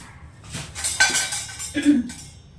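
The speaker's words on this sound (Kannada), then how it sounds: "ನಾನೇ ಫಸ್ಟು ಅನ್ನ ಕಲಸಿ ಇಟ್ಬಿಡೋಣ" Cooked rice being mixed in a metal vessel outdoors, with a few clattering scrapes and clinks of a utensil against the pot, fairly close.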